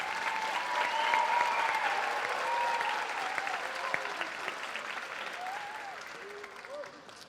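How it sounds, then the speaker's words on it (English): Audience at a school Disney musicals student share applauding, sustained dense clapping from a crowd that gradually tapers off, with voices and cheers mixed in. "Let's give them a big round of applause."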